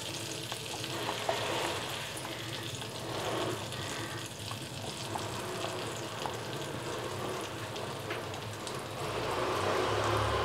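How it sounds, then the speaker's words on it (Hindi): Egg batter for a fluffy omelet hits a buttered pan over a low gas flame, giving a steady close sizzle and crackle that swells louder near the end. "गैस का फ्लेम बिल्कुल लो पे करेंगे और ये जो अंडे का बैटर है ये इसमें डाल देंगे"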